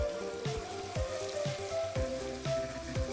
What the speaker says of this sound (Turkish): minik minik doğradığımız bir soğanı ilave edip sotelemeye devam ediyoruz